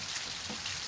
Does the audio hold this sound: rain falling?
yes